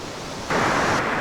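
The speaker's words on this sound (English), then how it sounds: "one of those sneaker waves just came right up" Ocean surf at Cape Henlopen, Delaware washes up the beach on a morning shore, a steady broadband rush that swells suddenly louder midway as a wave surges in close and loud.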